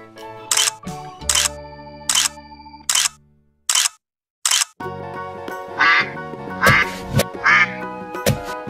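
A toy duck sounds a string of short, sharp quacks in quick bursts, each clear and close, followed by a denser run of overlapping quacks set against a musical backing.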